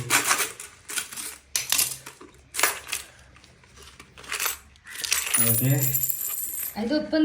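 A child's coin bank is broken open and coins clatter out in a few sharp, bright bursts of metallic jingling and scattering, close by, with brief voices near the end.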